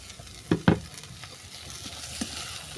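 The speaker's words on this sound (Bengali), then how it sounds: "কাঁচা পেঁয়াজগুলোকে ভালো করে মিশিয়ে নিচ্ছি" Raw chopped onions being stirred into cooked greens for a village-style mashed greens dish, a couple of soft scraping strokes over a faint low sizzle, close and quiet.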